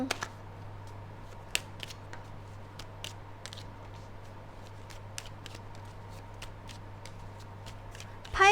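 Tarot cards are shuffled and handled close up during a reading. Soft papery riffles and sharp flicks and snaps come in irregular bursts over a quiet background, with no talk.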